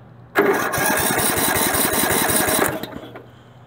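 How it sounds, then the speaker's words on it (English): A Craftsman lawn mower engine with a sticky ignition switch cranks in a fast, even chugging burst for about two seconds, then cuts out. The sound is close and loud. "the ignition switch is a little on the sticky side, but it's cranking."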